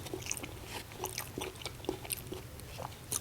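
Close, quiet crunching and chewing comes in repeated bites of som tam papaya salad with moo yor pork sausage and fermented fish sauce, with no talking.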